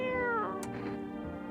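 A pet cat meows once in the video game No I'm Not a Human, a single clear, close meow that bends downward and trails off.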